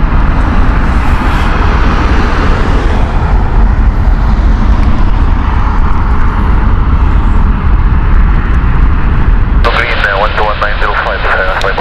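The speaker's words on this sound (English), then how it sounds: "Virgin in next. This is the San Francisco flight." A Virgin airliner on the San Francisco flight at London Heathrow Airport produces a loud, sustained jet roar close by, with a voice briefly breaking in near the end.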